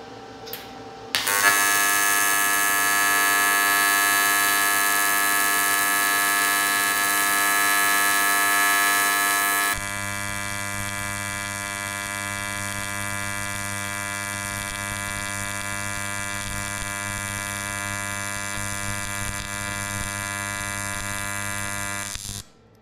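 AC TIG welder laying a bead on aluminum, a loud steady electrical buzz with a sharp start, a shift in tone partway through, then a continuous hum until it cuts off at the end, with no talk.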